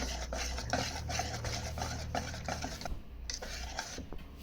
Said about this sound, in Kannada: ಇದನ್ನು ಕೂಡ ಹಾಕ್ಕೊಂಡು ಚೆನ್ನಾಗಿ ಮಿಕ್ಸ್ ಮಾಡಬೇಕು